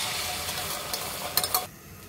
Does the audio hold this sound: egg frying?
yes